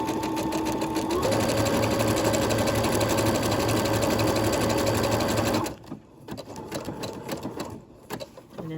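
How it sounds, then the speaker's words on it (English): A sewing machine runs in a fast, steady mechanical rattle for several seconds, speeding up slightly, then stops, leaving quieter handling noises. "you don't want to hear the sewing machine going on and on and on and on"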